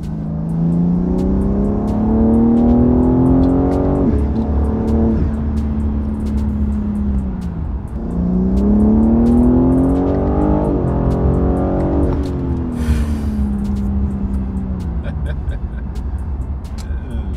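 BMW G80 M3 fitted with an MST intake pulls hard uphill, engine note rising loud and close through two long accelerations with a gear change between them.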